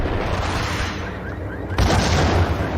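A grenade blast in the video game Max Payne: a sudden loud, broadband boom cuts through steady combat noise and rings out for about a second.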